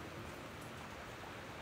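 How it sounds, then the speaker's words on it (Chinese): Rain falls on a succulent greenhouse as a faint, steady hiss of drops on the roof, continuous and even throughout, with no voices. "你看它又下雨了，不能说它停知道吧，一说停吧它就来劲儿了，还又下雨了。"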